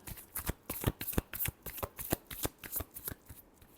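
Tarot cards are shuffled close up in a quick, even run of crisp riffling flicks and slaps, repeating rhythmically for several seconds with no voice over it.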